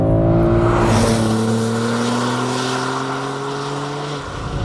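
Alpina B3 Touring accelerating hard, its engine note climbing steadily in pitch through a long continuous pull, loud and close with no gear break.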